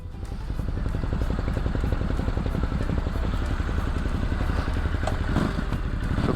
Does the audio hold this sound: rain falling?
no